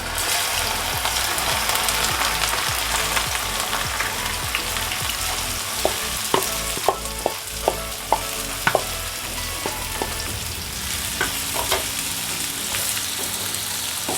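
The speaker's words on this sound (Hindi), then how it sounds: "भिंडी जो है वो ज़्यादा तेल में फ्राई होती है।" Okra sizzles steadily in plenty of hot oil in a pan, a constant loud crackling hiss with a run of sharp clicks partway through as the pieces are stirred.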